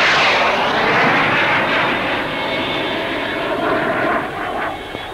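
A two-seat trainer version of a lightweight fighter jet roars past at an air show, a loud, steady engine rush with a slowly shifting whine that fades slightly toward the end.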